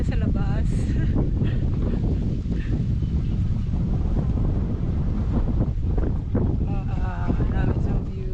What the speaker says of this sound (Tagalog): May hangin-hangin pa.